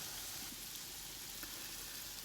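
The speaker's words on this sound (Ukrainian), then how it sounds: "Це хай поки смажиться" Continuous faint sizzling and crackling, like food frying in a pan, an even hiss with no talking.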